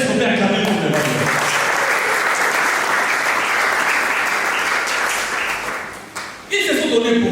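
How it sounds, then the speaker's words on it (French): Congregation at a Sunday church service applauding, a loud sustained wave of clapping and cheering that fades briefly before swelling again, with a preacher's voice around it. "Est-ce qu'on peut acclamer pour le Seigneur?"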